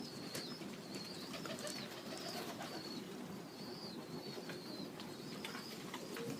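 Modoc High Mountain Zipper pigeons, young birds kept with two old birds, coo in a steady low chorus while higher chirps and brief wing flutters break through at intervals.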